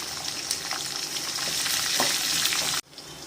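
Curry leaves and green chillies sizzling in hot oil for lemon rice, a steady close crackling hiss with occasional pops, cut off abruptly near the end.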